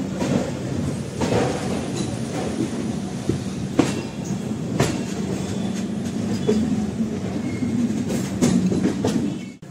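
The 13149 Kanchan Kanya Express, leaving Sealdah for Bidhannagar Road, rumbles steadily along the rails with a continuous low roar and periodic clicks and clunks of wheels crossing rail joints, heard from inside the moving train.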